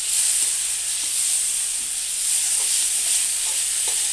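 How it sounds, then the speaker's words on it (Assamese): Spice masala of cumin and coriander powder frying in a pan while being stirred with a spoon, giving a steady close sizzle and hiss with light scraping taps throughout, no talking. "আকৌ এইখিনি মই ভালদৰে লৰাই দিম।"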